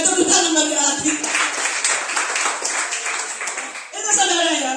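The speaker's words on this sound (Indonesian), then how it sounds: "Mereka tepuk tangan bagi Allah kita." A church congregation claps during Sunday worship, a dense run of hand claps that fills most of the stretch, with voices heard at the start and end.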